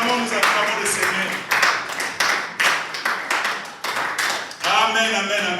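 A church congregation claps in uneven bursts while acclaiming the Lord, hands striking several times over a few seconds with voices mixed in.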